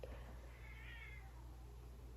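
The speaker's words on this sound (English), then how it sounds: "cats have been going at it." Cats meowing and yowling at each other in a squabble indoors, a single drawn-out, wavering cry standing out over a steady low hum, fairly quiet and alone without talk.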